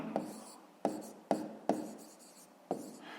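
Pen writing by hand on paper while a fraction problem is worked through in a math lesson: five or six short, close scratchy strokes in a sparse, uneven rhythm, with no talking.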